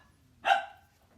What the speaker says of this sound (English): My puppies are barking.